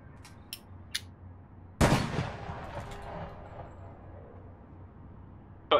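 Gunfire in the APB Reloaded video game: a loud burst of shots with a long rolling decay, a few faint sharp pops before it and another hit at the very end.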